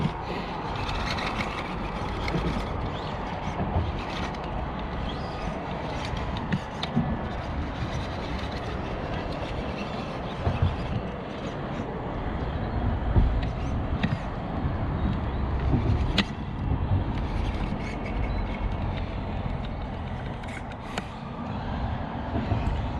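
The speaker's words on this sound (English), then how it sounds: "that little 130 motor is just not cutting it" A small JJRC Q65 RC jeep runs on its little 130 motor, giving a continuous loud whirring, rumbling drone with rattling and crunching from the wheels on the ground, steady for over twenty seconds with no talking.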